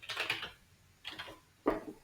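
Typing on a keyboard to enter a model number and serial number, with three quiet, separate bursts of soft key clatter and near-silence between them.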